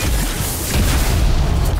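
A Bombastic Bomb spell detonates in a Harry Potter mobile game, a loud, full booming explosion with a deep rumble that swells across a second or two.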